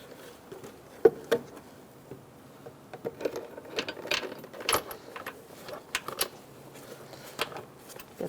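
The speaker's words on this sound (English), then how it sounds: "Using a 10mm, we're going to tighten these down." A 10mm ratchet tightening airbox bolts on a 2002-2006 Toyota Camry, with faint, quiet clicks and small clinks in irregular bursts, close by.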